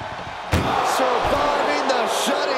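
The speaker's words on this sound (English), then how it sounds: "Surviving the shutting door and escaping the ambulance." An ambulance door slams shut during a wrestling match, a single loud impact standing out over steady arena crowd noise that continues afterward.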